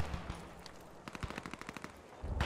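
Machine-gun bursts in the online military shooter Post Scriptum, a quick rapid string of shots at moderate distance followed by a louder nearby blast at the end.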